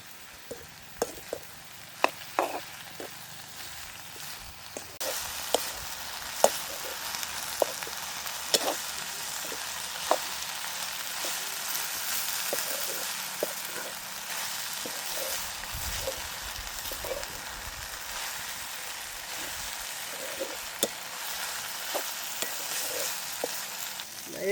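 Steady sizzling of salted eggplant frying in a pan, with occasional stirring clicks and scrapes, continuous and fairly loud, no voices.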